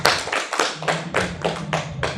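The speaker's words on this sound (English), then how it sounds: "Give applause to Dr." A few people clapping for a presenter after an academic conference session, producing a sparse run of about seven distinct, evenly spaced claps, close and fairly loud over a low steady hum.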